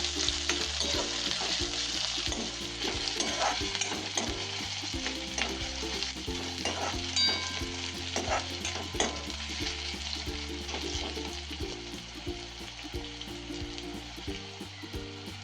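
Tomato and onion frying in a pan for a dry cauliflower bhaji, a steady loud sizzle that runs unbroken throughout with faint music beneath.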